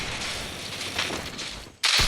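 Desert Eagle pistol gunfire in a first-person shooter game, with a sharp loud burst of shots near the end after a stretch of noisy in-game background.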